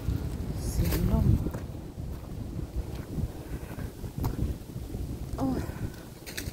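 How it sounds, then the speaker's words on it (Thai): Strong wind blows through a forest, gusting loudly and buffeting the microphone, with a low roar that swells and eases and a few brief higher creaks or calls. "เสียงลม"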